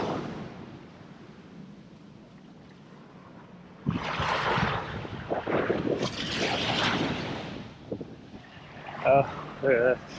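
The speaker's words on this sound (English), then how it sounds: "it's pretty windy." Wind gusts across a beach on Aruba, starting as a low rumble and then buffeting the microphone in loud, uneven blasts. People talk briefly near the end.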